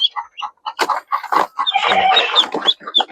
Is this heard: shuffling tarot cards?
no